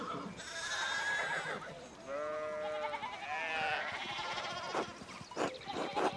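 Sheep bleating inside the medieval village of the video game Pentiment, several wavering calls overlapping at moderate loudness over a soft ambient backdrop, with a couple of short sharper noises near the end.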